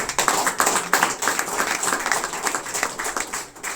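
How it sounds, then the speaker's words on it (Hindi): Audience applause at a motivational business talk, a dense patter of many hands clapping close by, steady and fairly loud throughout with no pauses. "मैं चाहूंगा एक बार इनके लिए तालियां"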